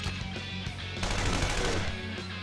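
Rapid automatic gunfire from a gun skill in the video game Persona 5, a dense continuous burst of shots layered over loud game music and effects.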